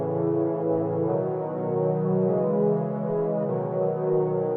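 Synthesized chord progression moving through major and minor chords, four sustained chords changing roughly every second, smooth and even in level, played alone with no voices.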